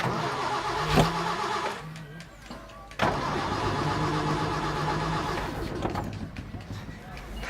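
A car engine cranks and catches, then runs steadily under nearby voices talking, with a door-like thump partway through.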